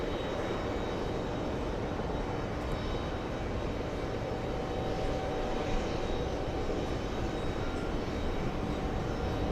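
A JetBlue airliner, flight 1009, flies past at JFK airport at about 140 knots, giving a steady, loud broadband roar of jet engines that holds evenly throughout with no talking.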